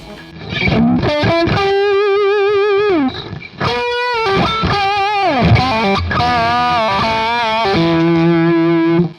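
Electric guitar played through a TC Electronic Dark Matter distortion pedal with heavy gain, sustained gritty chords and bends with brief pauses, loud and up close, no voices.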